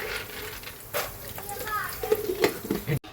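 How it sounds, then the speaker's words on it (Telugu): Peanuts frying in a pan for a homemade snack mixture, a soft crackling sizzle with stirring scrapes and light clinks of the pan, heard under talking. "ఇప్పుడు పల్లీలు వేసి వేపుకుందాం"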